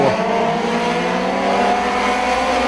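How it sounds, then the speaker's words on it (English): Sport compact race cars at County Line Raceway during a five-lap heat race, engines screaming loud and near as they accelerate together, with rising and falling tones and no voices. "Two very fast race cars"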